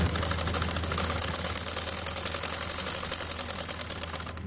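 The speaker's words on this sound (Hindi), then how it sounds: "अब इसके बाद हम यहां पर इसको डबल सिलाई लगाएंगे।" Sewing machine running steadily at speed, stitching a double seam along the edge of a baby's butterfly frock, a continuous close rapid mechanical whirr and clatter with no pauses.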